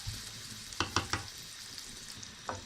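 Chopped onions sizzle steadily in half a cup of hot oil in a pan, with a few sharp stirring clicks and scrapes over the constant crackle.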